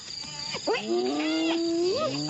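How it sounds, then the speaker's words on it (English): Drawn-out whooping and wavering hyena calls rise and fall, with several voices overlapping at moderate distance from a marsh against a steady insect-like hiss. "the calls of more hyenas come from the marsh"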